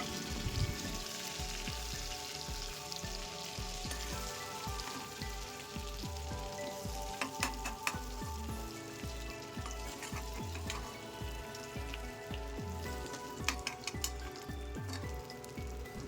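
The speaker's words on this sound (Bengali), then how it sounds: "এখন পটল ভাজতে ভাজতে সোনালি রং এসে গেছে এই পর্যায়ে পটল তেল থেকে তুলে রাখবো" Pointed gourd (potol) frying in hot oil, giving a continuous crackling sizzle with dense popping spits, steady and close throughout with no talk.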